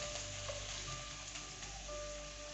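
Boneless chicken pieces frying in a hot pan give a steady, close sizzle that runs continuously with no talk.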